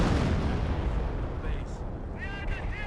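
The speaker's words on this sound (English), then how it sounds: "So we got artillery going in" Video game artillery fire rumbles as a dense, sustained roar of distant booms and blasts, steady and fairly loud throughout, with a few faint higher tones near the end.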